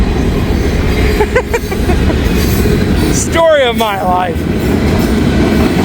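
A freight train rumbles past loudly and continuously with rattling wheels and a brief squeal, while someone speaks a few words partway through.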